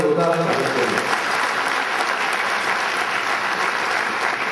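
Applause at an award ceremony during a festival event, a dense, steady round of clapping from a crowd that holds evenly throughout.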